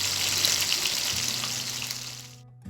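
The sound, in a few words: beleh fish frying in hot oil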